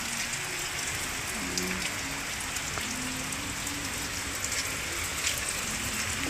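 Steady rain falling in Bicol, a continuous dense patter on surfaces with occasional louder drips, close and even throughout with no talking.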